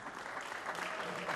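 Audience applause for a former pageant winner receiving a trophy on stage at a Romanian symposium, a steady dense clapping wash filling the short clip with no talk over it.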